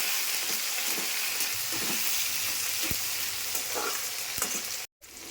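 Potatoes fry in a pan with a steady, dense sizzle, punctuated by a few soft utensil knocks and stirring scrapes; close and fairly loud, with a brief dropout near the end and no talking.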